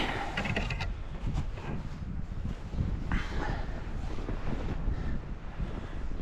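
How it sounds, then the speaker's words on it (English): Strong winter wind in Wyoming buffets a hot tent, a continuous loud roar with gusts and rumbling microphone buffeting throughout, no voices. "This wind is incredible."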